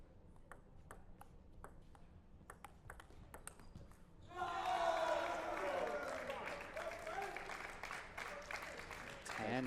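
At a collegiate table tennis national championship team final, sharp ball pings ring out before a crowd bursts into loud cheering and applause, the roar sustained and building to the end.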